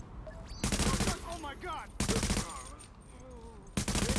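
Bursts of automatic gunfire from a firefight in The Division video game, three loud volleys of rapid shots separated by brief pauses, with voices chattering and calling out between them.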